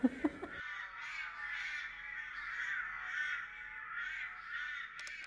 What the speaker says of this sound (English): This kind of AI crow creature that you hear in the work.